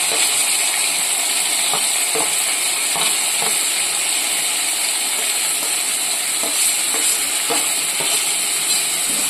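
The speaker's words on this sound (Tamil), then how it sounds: "இது வெங்காயம் கொஞ்சம் நல்லா வதங்கட்டும்" Small onions sautéing in a pan for squid masala, a steady broadband sizzle with intermittent scraping stirs, close and continuous, with no talking.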